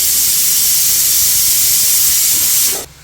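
Vegetables for a masala poriyal sizzle while being sautéed in a pan, a loud, steady, broad hiss that runs unbroken for nearly three seconds before cutting off abruptly.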